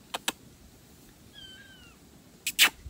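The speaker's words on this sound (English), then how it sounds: "Sorry, my cat." A cat meows indoors, close and fairly loud. Two short bursts at the start are followed later by a pair of stronger meows, with quiet room noise in the gaps.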